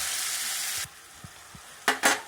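Tomato and onion sautéing in a pan for kurma: a steady loud sizzle for most of the moment, then it drops away, leaving a few soft utensil taps and two brief bursts of frying noise near the end.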